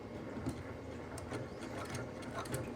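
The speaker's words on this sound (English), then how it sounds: "I'm just going to sew straight down that" A sewing machine with a quarter-inch foot runs a straight seam, giving a soft, steady, rapid mechanical whir with light clicking, quiet and close, with no voices.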